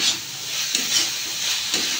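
Ash gourd curry is stirred in a pan as it cooks down toward dry, a steady hiss and steam sizzle with a few soft scrapes of the spoon at a slow rhythm, close and fairly loud.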